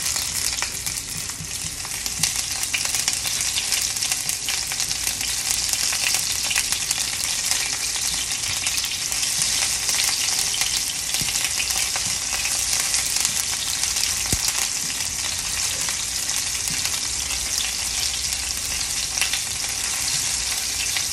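Onion frying in a pan gives a continuous loud, hissing sizzle that holds steady for about twenty seconds, with small crackles throughout.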